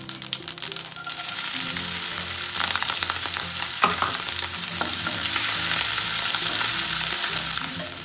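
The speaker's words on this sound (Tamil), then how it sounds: "பச்சை மிளகாய் ஆட் பண்ணிடுவோம்." Green chillies dropped into hot oil with cumin seeds for a potato and okra fry, starting with a few crackles and then building into a steady, loud sizzle with stirring scrapes throughout.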